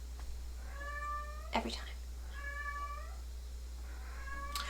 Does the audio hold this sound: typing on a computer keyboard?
no